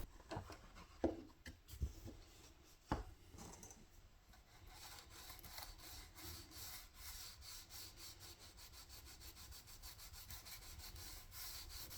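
Resin X-Wing model fuselage rubbed with Stevens International sanding sticks, a rapid rhythmic scratchy rasp of back-and-forth strokes, close and fairly quiet, with a few knocks and handling bumps early on.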